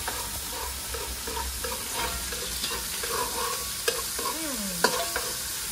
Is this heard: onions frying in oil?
yes